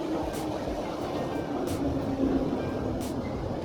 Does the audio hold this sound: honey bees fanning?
no